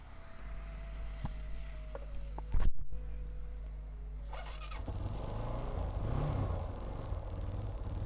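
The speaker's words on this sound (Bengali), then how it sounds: "সম্মানিত ভিউয়ার্স আমরা গাড়িটা স্টার্ট দিয়ে আপনাদেরকে সাউন্ডটা একটু শোনাই" A second-hand motorcycle being started: a quiet idle hum, then a sharp cranking burst, and after a few seconds the engine catches and runs with a steady, low, slightly uneven throb close by.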